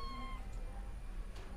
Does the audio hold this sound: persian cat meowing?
yes